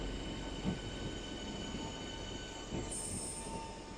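A train rolls through Tunbridge Wells station with a steady rumble and a high wheel squeal rising near the end, heard from a platform at moderate distance.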